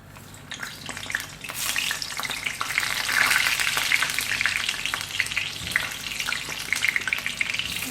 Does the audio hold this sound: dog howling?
no